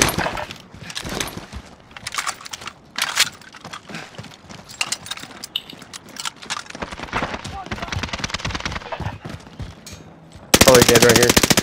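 Rapid bursts of machine gunfire ring out repeatedly in a video game firefight, in clusters and sharp single cracks, with voices speaking over parts of the action.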